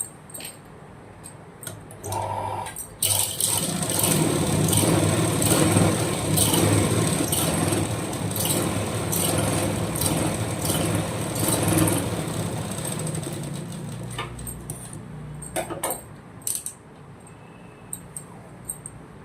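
A sewing machine runs stitching a blouse seam, a rapid mechanical whir that starts after a few quiet seconds, holds steady, then stops with a few small clicks and handling noises.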